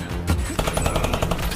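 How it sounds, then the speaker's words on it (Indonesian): Gunfire in a film shootout as fighters shoot back at enemies, a dense burst of sharp repeated shots with a steady loud rumble beneath, close and continuous over the short span. "membalas tembakan dari musuh dan berhasil menumbangkan beberapa orang"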